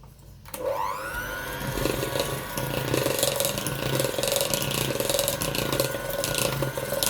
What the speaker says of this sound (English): Mix on low.